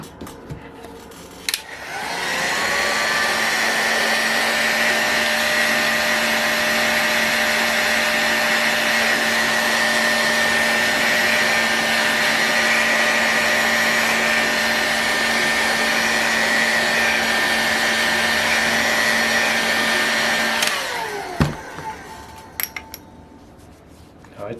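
A heat gun warms an Enya R120 model engine case during disassembly, its steady loud blowing whine switching on, running continuously for about twenty seconds and then cutting off, with faint clinks at the end.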